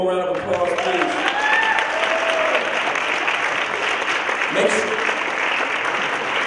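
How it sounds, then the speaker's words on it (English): A conference crowd claps for a panel of four at a plenary on resistance and state repression, dense steady applause with some cheering voices and tonal calls rising over it early on. "Can you give them one more round of applause, please?"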